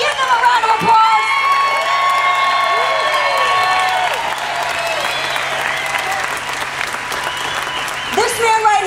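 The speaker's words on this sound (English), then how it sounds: "Can we drown that out and give them a round of applause?" A rally crowd at the 912 St Louis event claps and cheers loudly for nine seconds, with whoops and shouts over a dense, continuous wash of applause and a low steady hum underneath.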